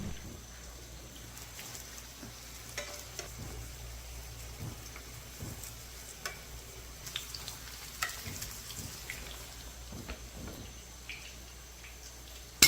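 Burger buns toasting cut side down in a hot pan beside frying chicken burgers, giving a steady, soft crackling sizzle with scattered pops throughout, fairly quiet and without speech.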